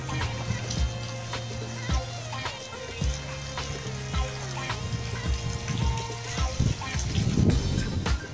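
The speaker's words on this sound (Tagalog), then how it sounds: "Yan po yung tubig." Water splashing and trickling steadily in a park fountain display during winter, a continuous close wash of droplets with a rising burst near the end, under an adult voice and children talking nearby.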